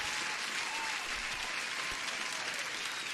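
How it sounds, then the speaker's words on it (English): Sustained applause from an audience during a live day-trading stream, a dense, even wash of many hands clapping at steady loudness throughout. "Let me give one more applause to everyone."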